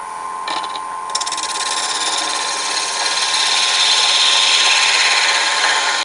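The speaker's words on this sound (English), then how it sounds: "I need to flatten the surface right here." On a wood lathe, a cutting tool scrapes across a spinning wooden piece to flatten its surface, producing a loud, continuous rasping hiss over the motor's steady hum for several seconds before stopping.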